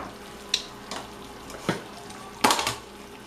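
A utensil stirs shrimp pasta in a pan, producing a few separate scraping clinks and soft sizzling scrapes spaced irregularly, fairly close.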